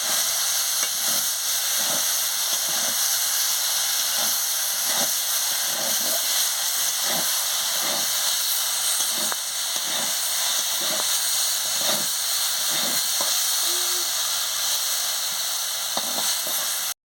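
Food frying in an uncovered pan for a neem-leaf fry, a steady bright sizzle and hiss running continuously, broken by regular soft stirring scrapes, close and fairly loud with no talking.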